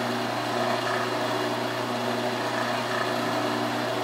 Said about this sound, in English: we'll go ahead and touch it up with a little bit of 600 grit sandpaper